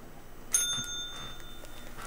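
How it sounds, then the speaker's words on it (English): A cat strikes a bicycle-style bell, giving a single bright ring that lingers briefly and then fades, close by in an otherwise quiet room. "Hit the bell, baby."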